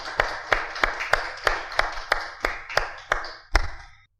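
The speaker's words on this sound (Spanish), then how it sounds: "Dele un aplauso al Señor, mi hermano." Rhythmic clapping from a church congregation, about a dozen sharp, evenly spaced claps with a louder one near the end, close and fairly steady in tempo.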